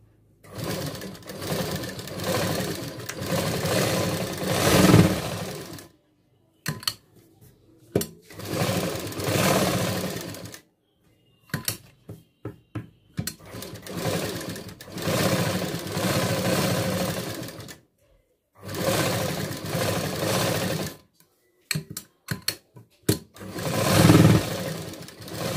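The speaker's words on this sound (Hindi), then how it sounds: "1/4 इंच का डिस्टेंस देंगे और सभी साइड से इसको सिलाई लगा देंगे।" Sewing machine running bursts of stitching along blouse lining fabric a quarter inch from the edge, loud whirring runs of several seconds separated by short pauses and quick taps.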